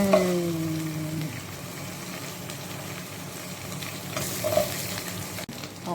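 Chicken marinade frying in a pan while being stirred, a close continuous sizzle with scraping stir strokes, an early tonal hum fading out and a brief louder clatter near the end.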